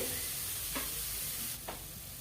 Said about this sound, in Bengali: ফুলকপিগুলোকে এইভাবে নাড়াচাড়া করে গ্যাসের ফ্লেমটা হাইতে রেখে আমি ভেজে নেব